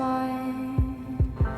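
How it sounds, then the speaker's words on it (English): Three deep heartbeat-like thumps land near the end of a song, over a sustained low hum, the last two coming in quick succession. "Sounds like a heartbeat."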